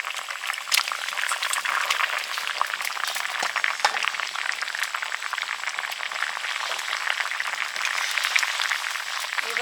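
Khoira fish slid into a bubbling taro curry brings a continuous close bubbling and sputtering simmer with small crackles, steady throughout and with no talk.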